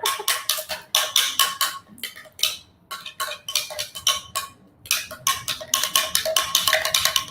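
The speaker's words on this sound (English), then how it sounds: "You just want to make sure you stir it really, really good." A utensil stirs matcha tea with almond milk in a cup, making rapid, bright clinking scrapes in quick bursts with brief pauses, close and fairly loud, with no voices.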